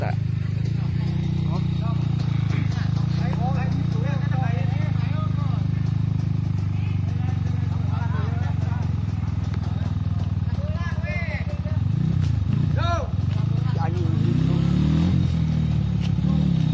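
A KTM motorcycle engine runs steadily on an adventure trail, a loud continuous rumble with occasional revving, while people talk over it throughout.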